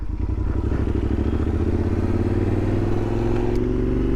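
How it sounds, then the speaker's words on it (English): A Yamaha Super Ténéré 1200 motorcycle being ridden, its engine a steady, close low drone with rising pitch as it accelerates, no talking. "this is my first ride on a Yamaha Ténéré leader bike"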